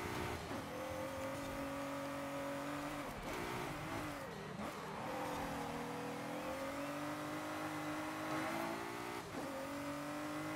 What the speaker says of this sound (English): Our car is skidding all over the place